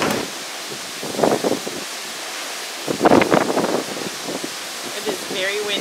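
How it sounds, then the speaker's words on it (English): Strong wind on the deck of a ship out on the ocean buffets the microphone with rumbling gusts, while a voice speaks intermittently over the blustery roar. "It is very windy. Now that we're out on the ocean."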